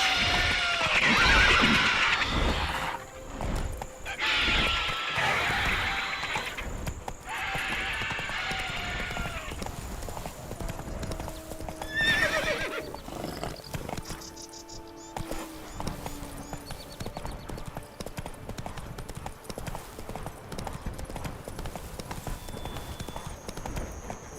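A horse in the Witcher 3 video game neighs and whinnies loudly while its hooves clip-clop steadily throughout, with a faint voice briefly heard over the game sounds.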